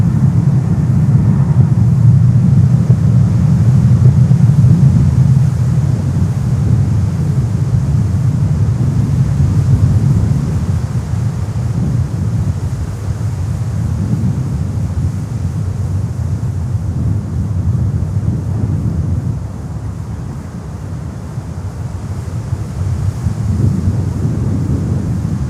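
An airliner climbing after takeoff from Miami airport gives off a steady, low, distant roar that swells and fades slightly, heavily mixed with microphone wind buffeting.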